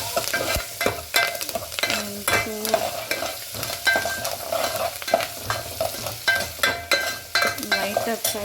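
Curry leaves and chopped onions frying in hot oil for a jackfruit sambar, stirred with a utensil: steady crackling sizzle with repeated scraping strokes against the pan, close and fairly loud, no talk.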